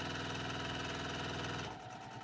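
A sewing machine stitches a quilt with a fast, steady mechanical whir and rapid needle rhythm, then stops abruptly near the end, leaving a quieter tail.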